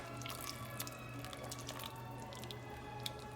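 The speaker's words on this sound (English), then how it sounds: "We're going to slowly add the half and half" Half and half is slowly poured into a pot of lobster bisque as it is stirred, giving soft wet dribbling and dripping sounds over a low steady hum, close and quiet.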